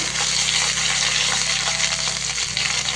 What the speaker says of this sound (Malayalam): അവസാനമായിട്ട് ഒരു ഉണക്കമുളകും ഒരു പിടി കറിവേപ്പിലയും കൂടി ഇട്ട് കൊടുക്കുക